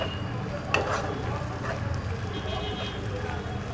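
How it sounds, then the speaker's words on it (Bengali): Grated garlic and ginger stir-fried with onion and carrot in a pan, a steady low sizzle with faint scraping of a spoon, running continuously under a person talking. "এটা একটু কাঁচা গন্ধটা যাবার পর্যন্ত একটু কষতে হবে।"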